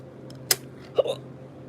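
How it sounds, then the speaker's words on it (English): Single person's hiccup, a short sharp catch of breath, followed by a quieter vocal hitch a half-second later in a quiet room. "Excuse me, I just got a hiccup."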